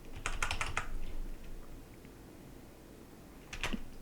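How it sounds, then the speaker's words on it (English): Playing cards riffled and shuffled back into a deck during a tabletop card game, heard as two close, crisp bursts of rapid clicking separated by a quiet pause. "And then I think we're just going to shuffle this back in."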